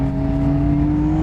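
Engine of a Nissan R32 Skyline GT-R with a swapped R34 Getrag 6-speed gearbox, a steady close droning hum with a strong even tone, no clear rise in revs during the brief moment.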